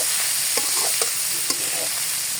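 Bitter gourd and shrimp stir-frying in a pan, a steady close sizzle of oil with a few soft clicks of the spatula stirring through it, no voices.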